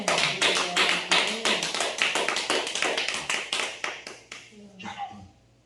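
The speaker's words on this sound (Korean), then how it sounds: "하나님께 영광의 박수를 올립시다." A church congregation applauds in unison at a revival service, a loud, dense burst of rhythmic clapping that holds steady for several seconds, then thins and fades out.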